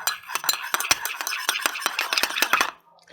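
A utensil stirs egg yolk in a bowl, clinking rapidly and rhythmically against the sides in a steady run of bright taps for under three seconds, then stopping.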